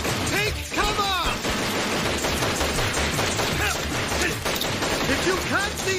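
Blaster gunfire in a night ambush scene from an animated Street Fighter series, loud rapid bursts of shots with mechanical clatter running continuously, with voices shouting through the battle.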